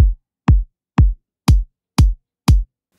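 Sub layer of an EDM kick drum played by itself: six deep, booming low thumps spaced evenly about half a second apart, each decaying quickly, with no other sounds.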